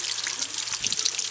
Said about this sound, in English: if you pour water and water comes out from the pot